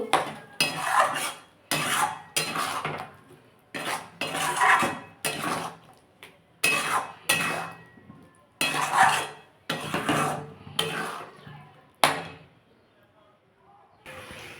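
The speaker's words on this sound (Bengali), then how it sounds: "মিক্সির বাটি দেওয়া জলটা দিয়ে দেবো দিয়ে এটাকে এবার ভালো করে কষিয়ে নেব" A spatula works cauliflower curry masala in a pan, with a sauté of rhythmic bursts of metallic scraping and clinking separated by short pauses, fairly close and loud.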